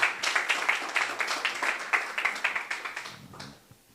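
Steady applause from a business networking chapter meeting audience, a dense patter of many hands clapping at moderate distance for several seconds before tapering off.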